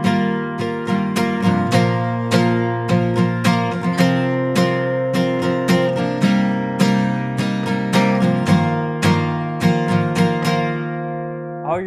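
An acoustic guitar strums chords in a steady, simple rhythmic pattern, bright and close, with regular downstrokes and no voices.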